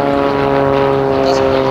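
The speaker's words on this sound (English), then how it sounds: "the aircraft flying in the box formation brake and pull up into a loop to begin the tail chase manoeuvre" CT-4 propeller aircraft in a formation aerobatic display at an air show, a steady loud droning engine and propeller hum throughout.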